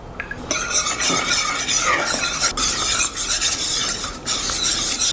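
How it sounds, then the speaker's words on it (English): A thick sweet rice flour paste is scraped around a pot for kimchi, giving loud, continuous rasping strokes close up with brief pauses and no talk. "Make sure you're constantly stirring because this is going to happen really quickly."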